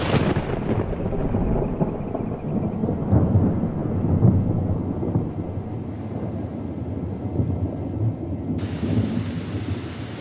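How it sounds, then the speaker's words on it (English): A thunderstorm over the Inner Hebrides rumbles with deep, rolling thunder beneath a constant hiss of heavy rain, loud and close throughout roughly ten seconds, with a brighter rain wash rising near the end. "When it rains here, it really rains."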